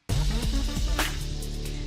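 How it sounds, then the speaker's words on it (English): A bright, pitch-bending future bass synth lead made in Ableton Live's Wavetable, over a thick, pulsing bass, with a quick rising sweep partway through, in an electronic dance style. "we're going to make a sweet, weird, pitchy sounding lead used in future bass"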